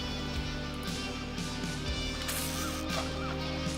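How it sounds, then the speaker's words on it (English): A seagull squawks in the video game RuneScape during deep sea fishing, with short honking calls repeating over a steady, busy background of game ambience. "let's see what happens as I try to scare off the seagull."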